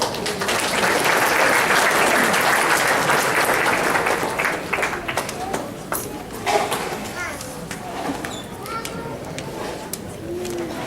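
An audience at a Muslim community council gathering applauds steadily to welcome a speaker. The dense clapping holds for several seconds, then thins and softens toward the end.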